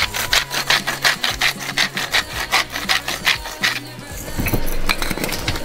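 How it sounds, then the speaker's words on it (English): A salt mill grinds salt over a pot of shepherd's pie filling, a run of rhythmic gritty crunching strokes about five per second, close and fairly loud, with low kitchen noise underneath and a rougher rasping texture near the end. "We're going to give it a grind of salt."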